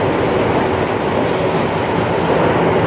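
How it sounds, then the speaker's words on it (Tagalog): Hong Kong MTR subway train running on a curve, heard from inside the car as a loud, steady roar of wheels and rails with a faint clatter throughout and no talking. "kurbada rin yung train."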